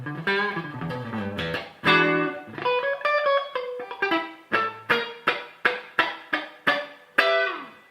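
Clean electric guitar through a Peavey Classic 20 amp, strummed chords then a run of crisp, evenly spaced plucked notes that ring and decay, no voices.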